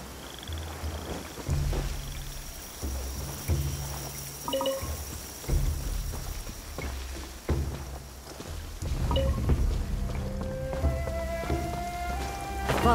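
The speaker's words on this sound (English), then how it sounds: "Taking a stroll in the middle of a downpour certainly rouses the spirit." Steady heavy downpour in the Aranyaka video game, a dense continuous patter of rain on surfaces lasting throughout, with soft tonal game music rising toward the end.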